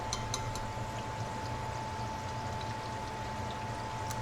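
Fried food is drained of oil with a soft, steady trickling and rushing that stays continuous and fairly quiet throughout, with no voices.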